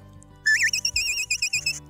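A shepherd blows a recall whistle for a young Border Collie in a field, a series of short, sharp, warbling high-pitched blasts following one rising tone, loud and close over a faint outdoor background.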